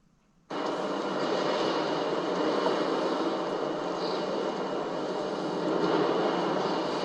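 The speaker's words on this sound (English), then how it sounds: "The power of the Atlas V RD-180." Atlas V rocket's RD-180 engine roaring steadily about a minute into a launch from the West Coast, a sustained loud broadband rumble that bursts in after a brief quiet moment and holds without any voices.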